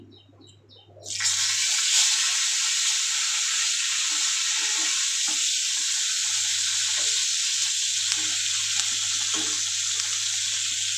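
Fish frying in a pan gives a loud, steady sizzle that bursts in after a second of quiet and keeps crackling evenly to the end.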